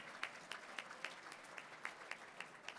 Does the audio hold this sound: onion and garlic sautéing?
no